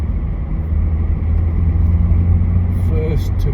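A Range Rover P38 with a manual R380 gearbox driving along, giving a steady low engine drone and road rumble from inside the cabin, with only a faint voice near the end.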